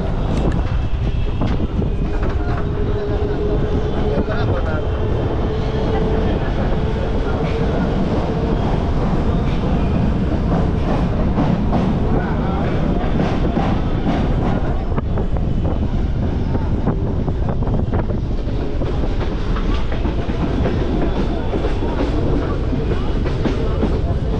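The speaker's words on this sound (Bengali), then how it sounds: "নৈহাটি থেকে ছেড়ে দিল আমাদের ট্রেন।" The Sealdah to Katwa local train, having just left Naihati, rumbles loudly and steadily from inside the carriage with continuous rail clatter and faint voices mixed in.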